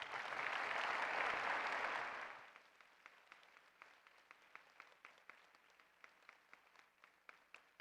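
Audience applause greets the president of the American Academy of Pediatrics at its 2016 national conference, a loud sustained crowd wash for about two seconds that fades into scattered lingering claps in a large hall.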